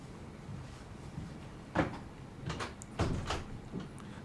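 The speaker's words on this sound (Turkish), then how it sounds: "şu kapıyı kapatsana" A door in a home pulled shut, with a couple of soft clunks and a sharper knock close by, and light rustling between them, no one speaking.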